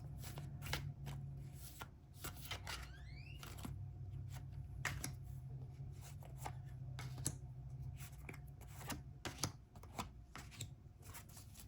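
Tarot cards being shuffled by hand, a quiet, close run of crisp flicks and riffling snaps repeated in irregular bursts over a low steady hum.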